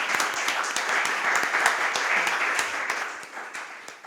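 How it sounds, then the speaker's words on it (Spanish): Audience applause after a talk at a virtual congress, a dense, steady wash of many hands clapping that stays fairly even for about four seconds before thinning slightly at the end. "Un fuerte aplauso para ella,"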